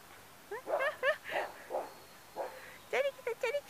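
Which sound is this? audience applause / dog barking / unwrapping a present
dog barking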